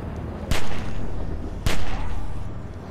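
Two sharp, loud gunshots crack about a second apart in The Walking Dead video game, each one a close snap followed by a brief rumbling tail over low background noise.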